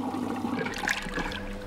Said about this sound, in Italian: La lavatrice si riempie di acqua calda saponata.